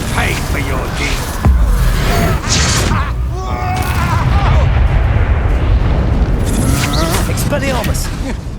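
A Confringo blasting spell explodes in Hogwarts Legacy, a sudden booming blast amid loud combat effects, with a character voice shouting over the chaotic fight.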